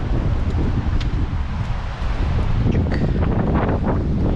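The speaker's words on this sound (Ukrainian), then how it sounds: "Сьогодні погодка дуже така вітряна." Strong wind buffets the microphone in a continuous low roar on a forest path in Międzyzdroje, Poland, gusting unevenly throughout with no voices.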